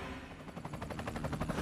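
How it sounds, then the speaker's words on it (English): A rapid burst of gunfire rattles out on a San Francisco street, sharp repeated cracks echoing through alleyways with a reverberant quality. "You can hear the gunshots echoing through the alleyways"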